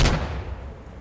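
A TOZ shotgun fires once in the Insurgency Sandstorm video game, a single loud close blast at the very start that decays quickly into a brief rumbling tail.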